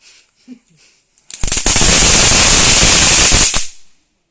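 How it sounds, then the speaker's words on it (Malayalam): A string of palm-leaf firecrackers bursts in a rapid, crackling volley for about two seconds, very loud and close, after a few quiet sounds. "ഗൈസ് അങ്ങനെ ഞാനിപ്പോൾ ഓലപ്പടക്കം പൊട്ടിക്കാൻ പോവാണ്"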